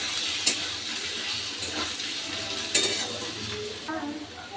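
Ginger-garlic paste being stirred in a pan, with a steady sizzle and a few sharp scrapes of the spoon against the metal, close and moderately loud, with no voices.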